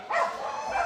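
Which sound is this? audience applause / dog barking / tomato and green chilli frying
dog barking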